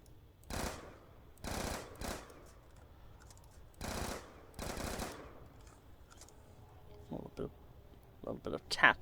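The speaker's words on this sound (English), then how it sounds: "A little bit of tap firing." Short bursts of assault rifle tap fire in a Black Ops 3 Zombies game, a few separate volleys of rapid shots spread across the clip, with quieter game sounds in between and sharper pops near the end.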